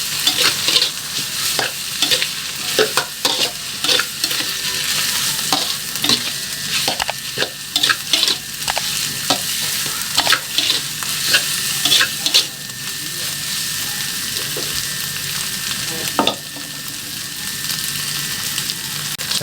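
Homemade mie goreng fried noodles are stirred in a hot pan, the steady sizzle of frying broken by repeated scraping strokes of a utensil, close and continuous.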